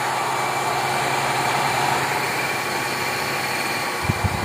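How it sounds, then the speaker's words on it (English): Two small electric motors spin steadily on a fuelless generator setup, drawing about 15 watts, giving a continuous even whir with a faint low rumble and a few brief knocks near the end. "So the two motors are spinning."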